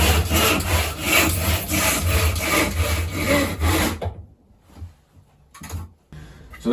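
A hand saw cuts through wood clamped in a vise, with steady rhythmic back-and-forth strokes that stop abruptly, then a few faint scrapes and knocks as the cut finishes.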